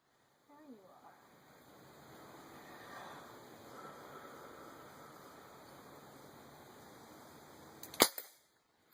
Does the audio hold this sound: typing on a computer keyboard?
no